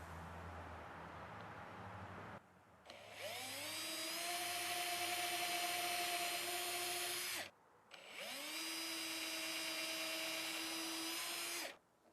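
Two long bursts from a power drill boring screw holes for pickup rings on a custom guitar body, each winding up to a steady high whine and then stopping, close and loud with a short pause between them.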